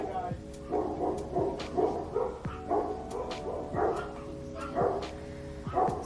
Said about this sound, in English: Sorry for the barks